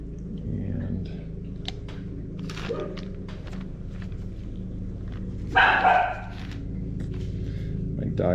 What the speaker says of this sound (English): my dogs do not like my neighbors mowing the lawn.